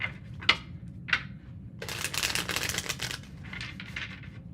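A couple of sharp taps from a tarot deck come first, then a hand shuffle of the cards in a close, papery riffle lasting a couple of seconds before trailing off.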